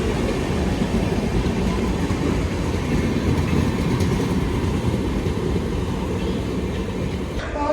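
Ernakulam–Hatia full AC express, run by South Eastern Railway, passing close by near Bekal Fort: a loud, steady rumble with wheel clatter that holds for the whole stretch and fades slightly at the end.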